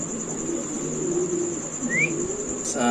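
Soft, continuous low cooing from large Indonesian fancy pigeons with a brief higher chirp, steady throughout and fairly close.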